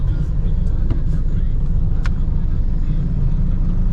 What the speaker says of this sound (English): Trucks everywhere, people everywhere.